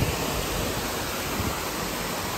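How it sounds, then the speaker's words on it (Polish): Huge waterfall on Koh Samui roaring as a dense, constant wash of falling water, loud and close with no break. "jaki jest ogromny ten wodospad"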